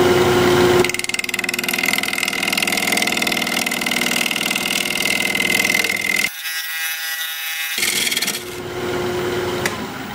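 A maple crotch blank spins on a wood lathe with a loud, steady motor hum while the tool rasps and rubs across the turning wood, then briefly goes quieter before the scraping resumes.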